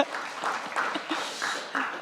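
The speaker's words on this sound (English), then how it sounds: "let's clap." Audience applause at a science conference talk session in Berlin, a short burst of clapping that rises and dips in uneven waves for about two seconds, heard alone without speech.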